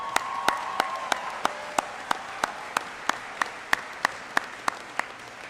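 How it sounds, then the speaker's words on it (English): Audience at a high school graduation ceremony clapping in a sparse, slow, evenly spaced rhythm, with distinct claps standing out over a faint room background; no talking. "You can clap for that."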